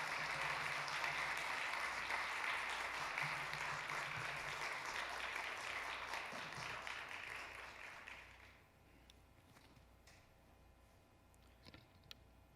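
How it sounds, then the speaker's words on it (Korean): A church congregation applauding to welcome a pastor, dense steady clapping that fades out after about eight seconds, leaving a quiet room with a few faint clicks. "우리 기쁜 마음으로 박수로 뜨겁게 환영하겠습니다."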